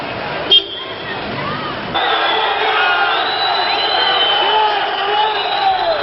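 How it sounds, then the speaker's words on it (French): Protest crowd in the heart of Buenos Aires in 1982 under the military junta, chanting for bread, work and peace; a loud, dense mass of voices fills the scene, with a sharp shout near the start and the roar swelling after two seconds. "En plein cœur de Buenos Aires, on scandait pour la première fois du pain, du travail, la paix."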